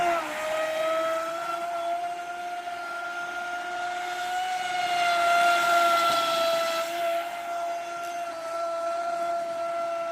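A Proboat Recoil2 RC speedboat, just upgraded after a crash, runs across the water with a sustained high-pitched electric motor whine that rises and falls slightly as it passes at a moderate distance.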